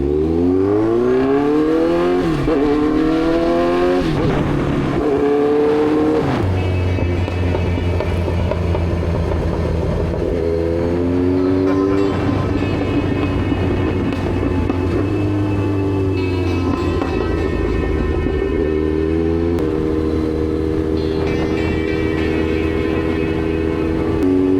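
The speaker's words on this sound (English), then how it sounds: "this bike has a ridiculous aftermarket exhaust" A Kawasaki Z900 motorcycle fitted with a loud aftermarket exhaust is ridden along roads in Vietnam. Its engine revs rise and fall through repeated gear changes, then settle into a steady, close, loud drone with no talking.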